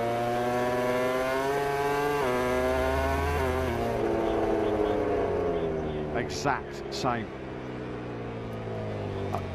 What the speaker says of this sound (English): The engine is still running. You can hear it still running.